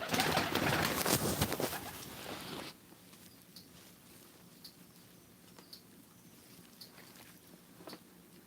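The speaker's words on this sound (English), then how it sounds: "the birds are just having a ball out here" Pigeons cooing outdoors on a cold day while gathering sticks for a nest, a few soft coos repeating at intervals over quiet background after a louder burst of broadband noise at the start.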